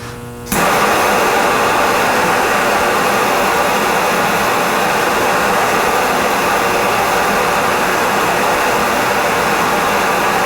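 A heat gun switches on abruptly and roars in a loud, steady, close blast of broadband air noise while heating a golf club head to free a broken shaft, with no talk.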